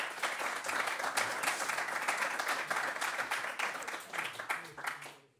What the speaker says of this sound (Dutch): Heel hartelijk applaus.